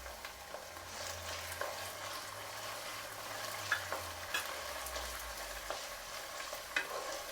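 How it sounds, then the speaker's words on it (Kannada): Curry leaves fry with onion and ginger garlic paste for masala chitranna, a faint steady sizzle with a low hum underneath and a few light clicks from stirring, no voices. "ಚೆನ್ನಾಗಿ ಫ್ರೈ ಆಗಲಿ ಕರಿಬೇವು ಹಾಕಿದ್ಮೇಲೆ ತುಂಬ ಚೆನ್ನಾಗಿರುತ್ತೆ"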